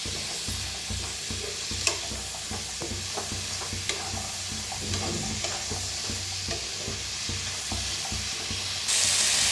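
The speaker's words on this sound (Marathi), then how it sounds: "तेल वतलंय, मिक्स करून भाजून घेऊया" Vegetables, hyacinth beans and eggplant among them, are stirred and fried in oil in a kadhai, with continuous sizzling and rhythmic scraping of a spatula close by, no speech.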